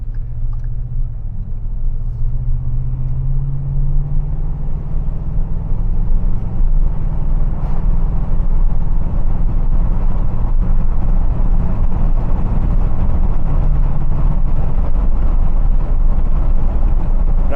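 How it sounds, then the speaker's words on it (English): A 2013 Ford SVT Raptor pickup truck is heard while driving with the windows down. Its exhaust gives a loud, steady low rumble with slowly shifting engine tone and road noise throughout, and there is no talking. "I love listening to this thing's exhaust"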